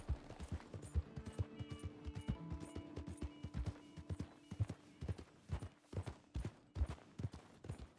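Horse hooves clip-clopping steadily in the video game Red Dead Redemption 2, a quiet, even walking rhythm of clear hoofbeats heard alone, with faint background music tones.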